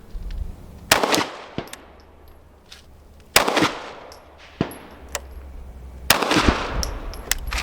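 Sharp outdoor pistol shots from a Canik Mete MC9 and a Hellcat Pro, three loud separate cracks spaced a couple of seconds apart, each with a short ringing tail and a few faint clinks between.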